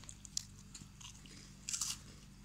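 Someone bites into vanilla flavour cream wafers and chews them up close, making quiet, crisp crunches and a louder burst of crunching near the end.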